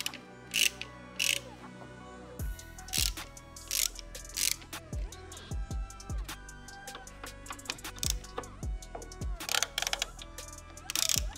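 A hand ratchet clicks in quick repeated bursts while loosening bolts on the wiper linkage bracket of a VW Mk5, close and crisp, with small metallic clunks between strokes and no talking.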